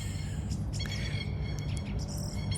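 Birds chirping in a summer garden, with scattered short high tweets over a steady low hum, faint and somewhat distant.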